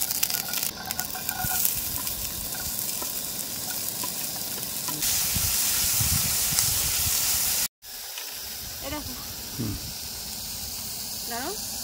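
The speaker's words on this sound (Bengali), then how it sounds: "অল্প একটু তেল দিলাম, রসুনটাও দিয়ে দেবো, দিয়ে জাস্ট একটু নাড়াচাড়া করে" Garlic sizzling in a little oil as it is stirred, a loud bright hiss with scraping stirs, briefly cut out before resuming under some voices.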